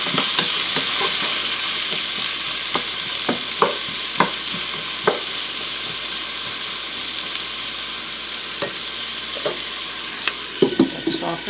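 Chopped onion frying in oil in a pan for fried cabbage and ham, a continuous bright sizzle with scattered utensil scrapes and taps as it is stirred.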